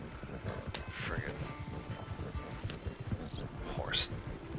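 Horse hooves clip-clop and a horse whinnies in the video game Red Dead Online, with steady mid-level hoof beats running throughout and a brief rising whinny near the end, mixed with game sounds and some talk.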